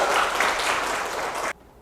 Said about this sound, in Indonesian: Tepuk tangan dulu untuk teman-temannya ya.